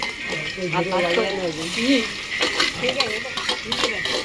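Onion, ginger-garlic paste and asafoetida fry in a pot over a wood-fired chulha, giving a moderate sizzle with ladle stirring and scraping while someone talks over it nearby.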